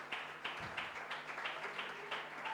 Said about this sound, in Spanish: Le damos un aplauso a Gise